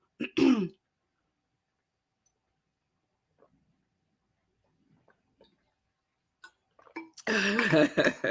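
A woman with a lingering post-COVID cough gives one sharp, close cough-like throat clearing. A long stretch of near silence with faint small noises follows, and then a dense, loud burst of cough and throat sounds comes at the end.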